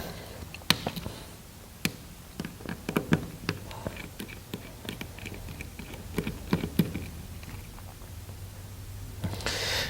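Small screws on a G&G MP5 airsoft gearbox being loosened and lifted out, producing scattered light metallic clicks and taps at an uneven pace, close by and quiet, with no speech.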